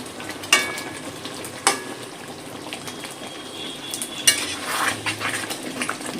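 Pointed gourd dorma stuffed with prawns simmers in gravy as ghee and garam masala are stirred in, a spoon clinking and scraping against the pot in a few sharp knocks over a low bubbling sizzle.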